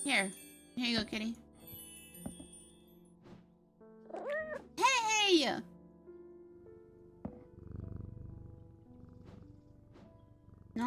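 Cat meows in the game Strange Antiquities, a couple of bright rising-and-falling calls near the middle, with a person exclaiming and soft in-game chimes and background noise around them.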